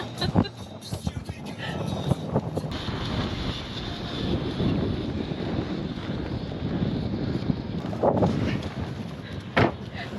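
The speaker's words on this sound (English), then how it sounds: "We got serious wind happening." Strong wind gusts across the open Alvord Desert in southeast Oregon, a broad roaring rush buffeting the microphone with bursts of louder gusts and a few knocks, no voices.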